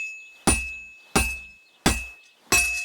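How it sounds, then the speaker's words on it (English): A blacksmith's hammer striking a sword on an anvil in the video game Kingdom Come: Deliverance II, four evenly spaced ringing metallic clangs, each loud and close with a lingering tonal ring. "Now take the hammer and try hitting it a few times."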